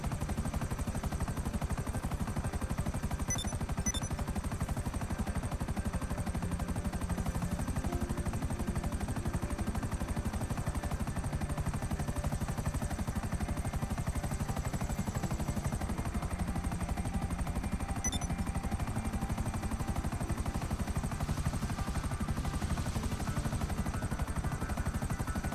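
Helicopter in a video game, a steady droning rotor hum held at constant loudness, with faint higher tones drifting over it and no voices.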